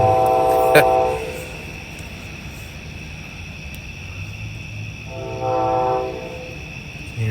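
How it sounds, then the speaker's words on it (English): A distant Amtrak train horn sounds at night in two long blasts, one near the start and another a few seconds later, faint over a steady hum of background noise and insects. "You hear the horn in the distance."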